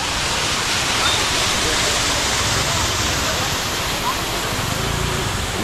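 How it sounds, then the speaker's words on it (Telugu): Waterfall plunging from a vertical height at Tamhini Ghat during the monsoon, a steady, loud, unbroken roar of falling water filling the whole clip. "అదేవిధంగా ఉంది వర్టికల్ హైట్లో ఉన్న జలపాతం."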